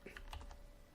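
A few computer keyboard key presses, quick soft clicks in a brief cluster, faint and close.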